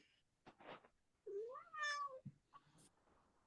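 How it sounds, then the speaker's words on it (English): A cat meows close by in a quiet room, first a few short chirps, then a longer rising and falling meow, then a brief final call, heard alone without talk. "Was that the cat that said Angel"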